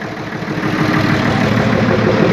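FNM 180 truck's diesel engine idling after three years parked, a steady low rumbling drone with rough mechanical throb, close and loud, running alone without voices.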